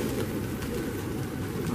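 Pigeons coo softly amid a dense, continuous murmur of a flock, with people talking faintly in the background.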